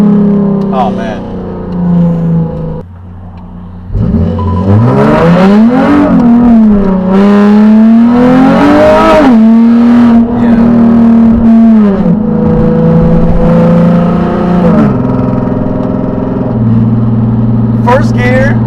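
A 2009 Nissan 370Z automatic blips and revs its engine through rev-matched downshifts, loud and close, with rising and falling engine tones and a pause between bursts.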